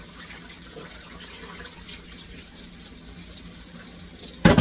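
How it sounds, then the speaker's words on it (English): Soaking water is poured off saltfish while ackee and saltfish is prepared in a kitchen, a steady splashing stream running continuously close by and ending with a sudden loud knock. "I'm going to pour the water from the saltfish."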